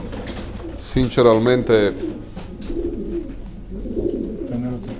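Pigeons cooing close by during a pigeon auction, soft repeated throaty coos scattered through the clip, with a louder call near the start and someone talking over them.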